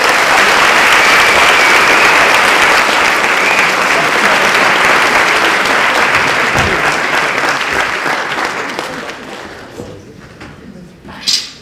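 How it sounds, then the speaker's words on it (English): A lecture-hall audience at a physics talk gives a loud round of applause, dense and sustained at first, then gradually thinning out and fading to a few final claps. "Can we have a round of applause?"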